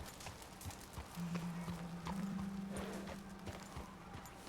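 Slow horse hooves clip-clop at a walking trot in Red Dead Redemption 2, a steady string of soft, evenly spaced thuds with a low tonal hum underneath and no talking.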